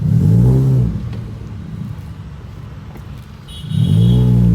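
A Toyota Supra's engine revs up loudly, settles to a lower rumbling idle, then roars up again in a second rev, heard close and alone.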